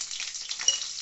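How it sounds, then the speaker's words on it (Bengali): An egg frying lightly in oil in a kadai, a steady soft sizzle with faint stirring throughout, one brief scrape near the end. "প্রথমে আমরা দেখছেন ডিমটাকে হালকা করে ভেজে নিচ্ছি"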